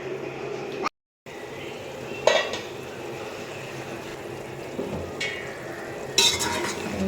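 Chicken fries in a pot for biryani, a steady sizzle and crackle with occasional scraping clinks of a spoon stirring against the metal, heard close up with a brief dropout near the start.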